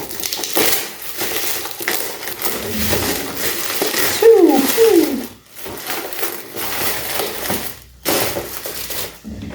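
Paper wrapping on a birthday gift package is torn and crumpled open close up, with rustling, crinkling bursts and brief pauses between pulls.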